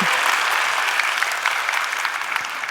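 Steady clapping from a sizable audience at a talk, a dense, even wash of applause that holds at a constant level throughout, with no voices over it.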